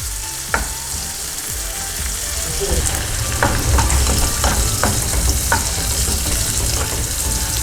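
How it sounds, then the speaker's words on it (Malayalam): Carrots and chicken with salt being sautéed in a pan, with a loud, steady frying hiss that swells midway, plus occasional spatula clicks and scrapes, close up and without talking. "ചേർത്ത് നന്നായിട്ട് സോട്ട് ചെയ്ത് കൊടുക്കുക."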